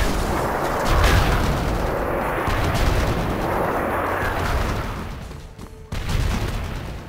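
Enemy gunfire aimed at the player in Red Faction Guerrilla: heavy repeated shots and booming impacts, fairly loud and dense, with a brief drop near the end before the firing resumes.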